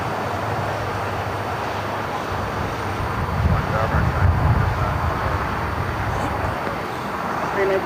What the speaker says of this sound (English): China Cargo 777 freighter touching down to runway 25 at the left